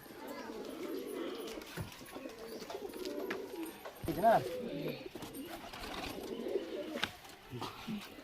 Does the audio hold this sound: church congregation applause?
no